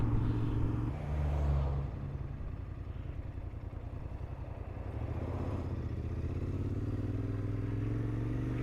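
A Royal Enfield Interceptor 650 motorcycle engine runs steadily and close by, a low continuous rumble with a brief swell near the start, no voices over it.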